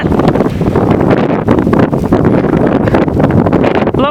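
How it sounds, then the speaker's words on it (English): Blizzard wind roars and buffets at a highway corner in whiteout conditions with blowing and drifting snow, a loud, continuous gusting rush with no voices. "the blizzard continues"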